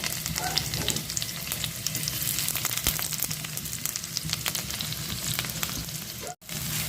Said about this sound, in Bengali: আমি প্রথমে তেলের মধ্যে দিয়ে দেব গোটা জিরে মধ্যে দিয়ে দেব পেঁয়াজ কুচানো